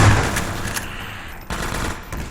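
Gunfire from a player's weapon in the video game Half-Life 2: Episode One, a dense rapid burst that stops briefly near the middle and then resumes.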